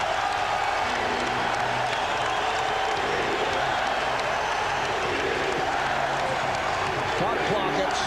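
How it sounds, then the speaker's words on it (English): Basketball arena crowd at a 2001 NBA Finals game between the Philadelphia 76ers and LA Lakers: a dense, continuous roar of cheering and applause fills the space, with a commentator talking over it throughout. "listen to this crowd"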